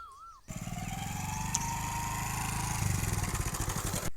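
A motorcycle engine putters close by with a steady, rapid thumping beat that grows slightly louder before cutting off.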